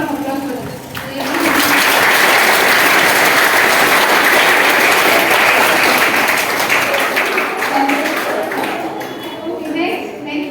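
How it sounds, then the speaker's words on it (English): School students applaud in a room, a dense sustained burst of clapping that swells quickly, holds steady for several seconds, then tapers off near and loud. "Big round of applause for this."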